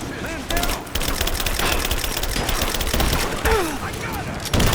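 Rapid bursts of gunfire from several weapons rattle through a firefight in the video game Rise of the Tomb Raider, with shouted voices mixed in and a louder burst at the very end.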